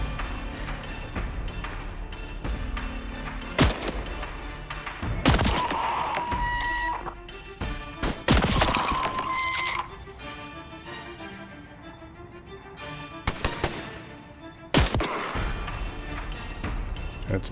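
A weapon firing in the video game Voidtrain, several sharp, loud shots spaced irregularly across the stretch with ringing tails between them over a low steady ambient bed, no voices.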